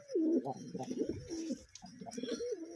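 Rajshahi Giribaz pigeons coo in a pigeon house, overlapping throaty rolling calls close by, repeating without pause.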